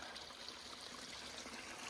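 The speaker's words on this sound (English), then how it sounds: "Stream coming right out of the mountain." Small mountain stream trickling beside a hiking trail, a faint, steady babble of water with no voices.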